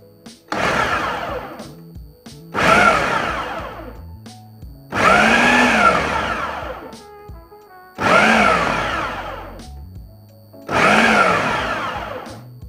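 A blender pulses meat filling for Nigerian meat pies in five loud, evenly spaced bursts, each a few seconds long, with short silent gaps between them.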